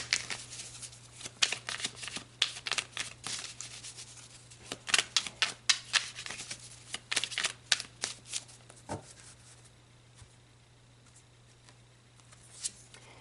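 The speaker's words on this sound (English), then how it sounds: "So let's pull some more cards, Pisces." Tarot cards are shuffled close up in quiet, rapid riffling and rubbing bursts that thin out to soft handling sounds near the end.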